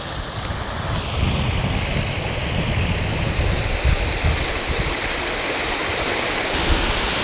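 Creek water near Wimberley, Texas, flowing over small falls, a steady close rushing wash of water that continues without a break throughout.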